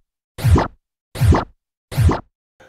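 A young cat knocks at a door, giving three evenly spaced, hollow thumps close by, each short and punchy with silence between.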